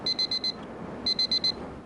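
An alarm clock rings in a hunting-camp bunkhouse, giving two bursts of four quick, bright electronic beeps separated by a short pause, fairly faint over a low background hiss.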